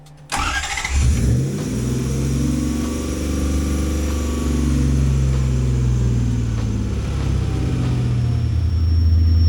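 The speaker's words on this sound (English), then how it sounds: "while the truck's in here idling, warming up" A truck engine starts with a sharp burst, then settles into a steady, loud, close idle as it warms up, a low rumble holding throughout.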